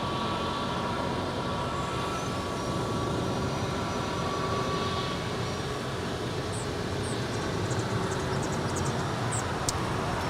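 A two-year-old Airbus A320neo airliner at Los Angeles International Airport, its engines giving a steady, continuous broadband roar that holds at an even level throughout, with faint high tones and distant background noise.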